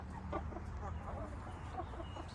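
Young Thai chickens clucking in a steady, busy chorus of short calls that run throughout, with a low background rumble and faint voices mixed in.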